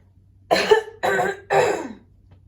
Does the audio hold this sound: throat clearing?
yes